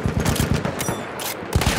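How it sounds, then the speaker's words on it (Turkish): Enemy machine gun fire in the World War I shooter Battlefield 1 hammers out as a loud, close, rapid burst of shots with a short break, then picks up again. "Düşman makinalı tüfeği!"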